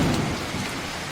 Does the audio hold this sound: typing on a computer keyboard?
no